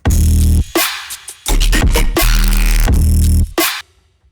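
Chopped breakbeat with the tails cut off, so each loud drum hit stops abruptly into short gaps. The hits are dense, punchy and bass-heavy, and no one speaks.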